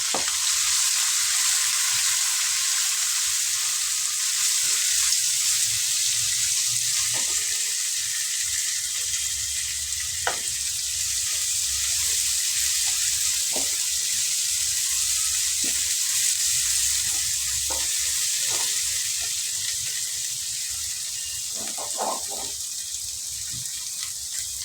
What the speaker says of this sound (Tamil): இப்போது ஒரு பெரிய வெங்காயம் கட் பண்ணி வச்சுருக்கேன், அதை போட்டுக்கிறேன்.